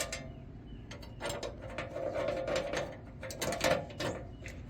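A ratchet wrench tightens the exhaust muffler brackets on a 2002 Toyota MR2, giving close, quiet clicking runs in a few short bursts with brief pauses between them.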